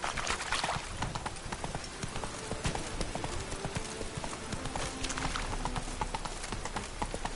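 A horse gallops in The Witcher 3, its hooves drumming in a rapid, steady clip-clop rhythm throughout, close and continuous against dense game ambience.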